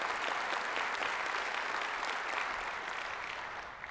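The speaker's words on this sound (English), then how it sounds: "Let's give Alan Pesci and Greg McCarthy a round of applause too." A large audience at a city's State of the City address in Arlington, Texas, breaks into sustained applause, many hands clapping in a thick, continuous roar that tapers off slightly near the end.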